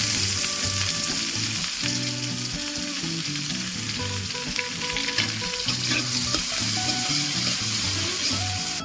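Oil sizzles steadily as chopped onions fry, with occasional stirring scrapes and clinks over a continuous crackling hiss.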